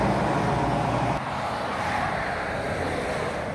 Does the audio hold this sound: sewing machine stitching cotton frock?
no